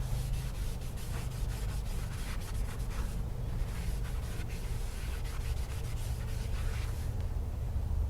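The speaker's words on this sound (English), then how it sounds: "Hit the brake clean, wipe it down." A rag rubs steadily over a car brake part just sprayed with brake cleaner during a Chevy Cruze brake job, a continuous close scrubbing swish over a low hum, no speech.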